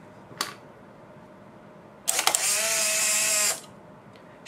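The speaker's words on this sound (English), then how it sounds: "Shutter is working excellently." A final-generation Polaroid SX-70 Model 1 under overhaul fires its shutter: a sharp click, then a second click that runs into a steady mechanical whir of about one and a half seconds, close and clear with no talking.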